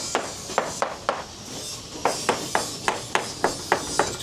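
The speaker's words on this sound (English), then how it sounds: "What you're listening for is the crack in the hammer." A hammer tapping the hull of a 2001 Sea Ray 460 Sundancer during a marine survey, a close series of sharp, crisp knocks in an irregular rhythm, about fourteen taps with a short pause partway through.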